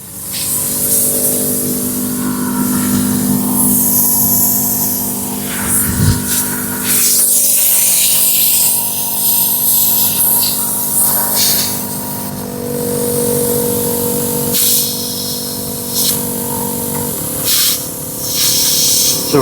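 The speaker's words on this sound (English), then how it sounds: "that gives you an idea of how fast that filled that tire up" A VEVOR 12V heavy-duty air compressor pumps air into a big Hummer tire, giving a loud, continuous hiss and rushing airflow with a steady mechanical hum beneath, shifting slightly in tone as it runs.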